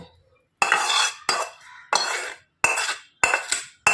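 Basmati rice spooned onto a fried mix of beans, carrot, cashews and raisins: five distinct scoops with utensil scrapes and soft clinks of cutlery against the pan, close and clear, no voices.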